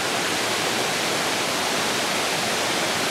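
Constant roaring rush of Batlag Falls, loud and close, a dense hiss with no pauses.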